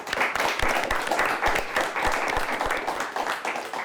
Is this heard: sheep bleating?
no